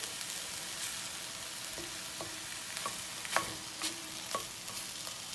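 Diced onions brown in a pan with a soft, fairly quiet sizzle, punctuated by several light spoon scrapes and clinks spaced a second or so apart.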